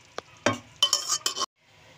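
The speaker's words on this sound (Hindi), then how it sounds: "तो ये दाल हम इसमें डाल देंगे" Lentils tipped into already-fried mutton in a pot, with a few scraping stirs and clattering knocks of a spoon against the pot, some faint sizzling between, quiet and close with no talking.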